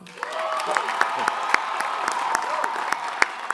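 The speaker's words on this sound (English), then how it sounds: "Please give them a round of applause." Audience at an undergraduate commencement ceremony applauding in a large hall, steady clapping with sharp individual claps and a voice heard over it.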